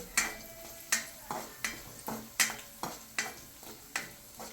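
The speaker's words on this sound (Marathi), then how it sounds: "तीस सेकंदापर्यंत तुम्हाला परतून घ्यायचं जेणेकरून त्याचा कच्चा वास गेला पाहिजे" Spices sautéing in a pan for okra amti, a spoon scraping and stirring in a steady rhythm of about ten sharp strokes over a soft sizzle.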